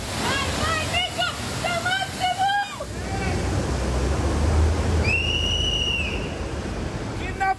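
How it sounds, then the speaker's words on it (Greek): Floodwater from the Krafsidonas river surges through the streets of Volos after the river overflows, a loud continuous roar and rush. A few shouting voices are heard early on, and a brief whistling tone rises over the torrent. "Ο ποταμός Κραυσίδωνας σπάει και τα ορμητικά νερά πνίγουν την πόλη."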